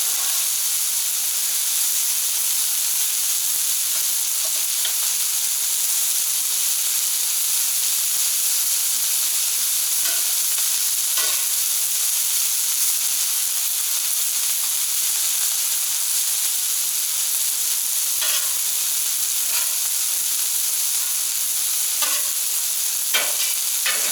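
A mound of small onions sizzles on a Camp Chef FTG600 flat top grill outdoors in bitter cold. The hiss is loud, steady and close, with occasional scrapes and taps of a spatula.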